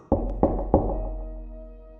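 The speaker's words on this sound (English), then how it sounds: "I went up and knocked on the door." Three firm knocks on a door, evenly spaced and close, each a hollow thud with a short ringing decay that fades into quiet afterward.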